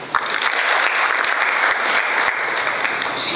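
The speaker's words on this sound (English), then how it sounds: "Can we clap for him?" A seminar audience gives loud, sustained clapping for an executive director of Advance Afrika, with crisp individual claps standing out from the steady applause.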